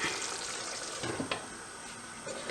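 Pork pieces fry in oil in a covered pan over a lowered flame, a close, steady sizzle with a few brief crackles and stirring sounds, no voices.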